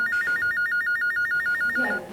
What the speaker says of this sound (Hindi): तैयबा फोन है निम्रा का, उठा।